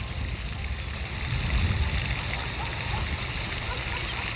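A cheap pond fountain bought on Amazon sprays water steadily, with a leak spraying from the side of its nozzle, giving a continuous close splashing and gurgling rush that swells slightly partway through.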